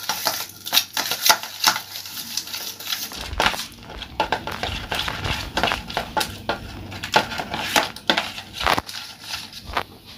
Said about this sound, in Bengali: দইটা ভালো করে ফেটিয়ে নেব।